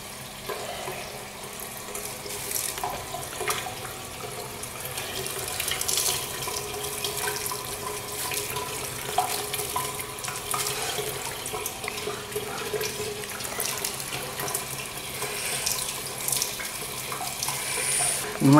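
Shower water running while a person bathes, a continuous loud hissing splash that stays steady and close throughout, with slight shifts as the spray moves.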